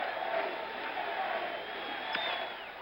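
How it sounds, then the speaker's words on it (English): A baseball stadium crowd at Game 1 of the 1977 World Series, Dodgers at Yankees, chants and roars as one steady, dense wash of voices from the stands. "Crowd is chanting, Reggie, Reggie."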